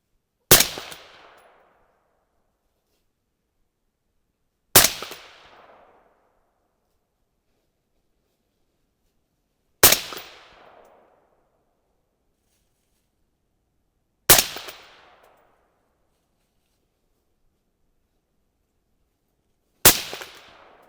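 Five loud, sharp rifle shots from a .22-250 with an 18-inch SPR barrel ring out close, about five seconds apart, each a crack with a short decaying tail, separated by silence.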